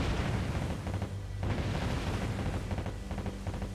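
Warship Gunner 2 naval gunfire and bomb blasts, a dense, loud barrage of booming shell fire and explosions rolling continuously with brief dips between salvos.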